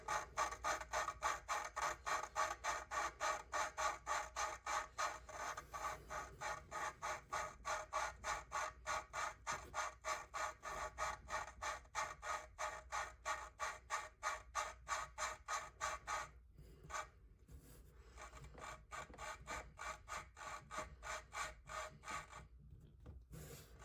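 Audi A4 engine valves lapped by hand with grinding compound, a steady rhythmic back-and-forth rasping of valve against seat, close and fairly loud, pausing briefly near the end before resuming.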